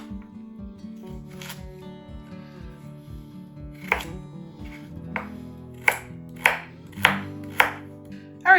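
Knife cutting carrots on a cutting board while making leftover turkey and wild rice soup, giving a run of steady close chops followed by several louder, sharper strikes spaced apart.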